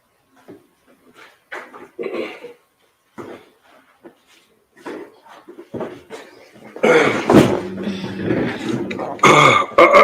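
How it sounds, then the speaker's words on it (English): A person clears their throat several times in rough, harsh bursts, first quieter and scattered, then louder and more forceful toward the end, close up. "I'm just clearing my throat."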